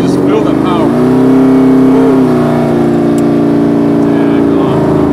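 A 1986 Monte Carlo SS pro-touring muscle car drives off and revs, its loud, close V8 roar rising and holding steady, with a voice speaking faintly over it.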